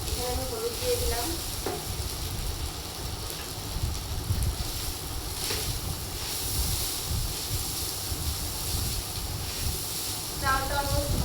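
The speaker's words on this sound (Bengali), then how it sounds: "চালটা অলমোস্ট ভাজা হয়ে গিয়েছে।" Rice frying with turmeric in a pot for khichuri, a steady broadband sizzle with occasional stirring scrapes, close and continuous throughout with faint background noise.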